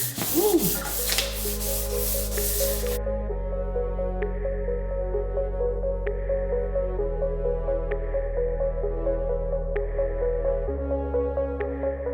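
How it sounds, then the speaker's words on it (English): Steady rubbing of sandpaper on a car body panel, continuous and close, with faint periodic ticks underneath. "bro is sanding"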